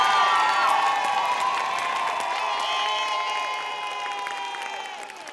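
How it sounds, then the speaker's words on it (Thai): Large studio audience at the Star Kids children's talent show cheers and applauds for all sixteen acts, a dense wash of clapping, whoops and children shouting that stays loud throughout and eases slightly toward the end. "ขอเสียงปรบมือดังๆให้กับทั้ง16โชว์ด้วยครับ"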